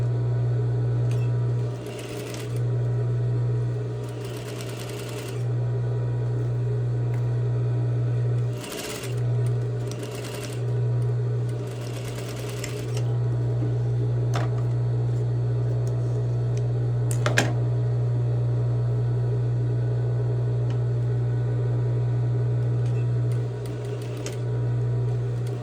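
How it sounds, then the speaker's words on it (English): A sewing machine stitches and backstitches along muslin seams in long steady runs of rapid humming whir, pausing briefly between passes, close and clear with no talk. "I'm going to go ahead and stitch and backstitch down the length of both"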